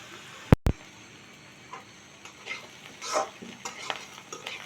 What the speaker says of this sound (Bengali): এখন আমি পেঁয়াজ কাঁচামরিচ ভেজে নেব